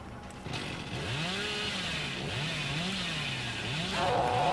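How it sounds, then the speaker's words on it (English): A chainsaw revs steadily in Dead by Daylight, its engine pitch rising and falling in repeated surges, loud and close, running continuously without speech. "this is why I don't use the chainsaw"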